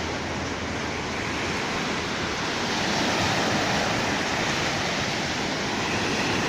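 High-tide sea waves in the Gulf of Thailand at Hua Hin make a constant wash of surf, a dense, even hiss that swells slightly partway through and carries on without a break.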